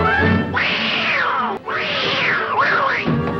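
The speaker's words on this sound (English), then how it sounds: "The only thing you think about when you hear that sound is a real life cat getting hurt." A Tom and Jerry cartoon cat yowls loudly in drawn-out, wavering cries, two long pained wails with a brief break between them, close and piercing.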